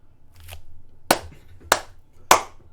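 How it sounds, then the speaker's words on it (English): Three sharp, loud claps spaced about half a second apart after a faint softer one, close and dry with no talking. "Round of applause."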